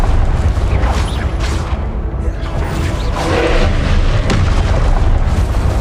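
Fiery Confringo spell blasts erupt in Hogwarts Legacy combat, loud booming explosions rolling one after another over a rumbling game soundtrack.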